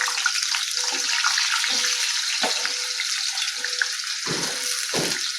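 Potato pieces frying in a wok of hot oil for a home-style aloo gobhi matar, giving a steady broadband hiss with a few louder bubbling bursts, close and with no talking.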